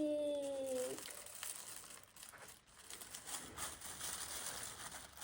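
Plastic crinkles and rustles continuously up close after a brief tone at the start, soft but steady throughout.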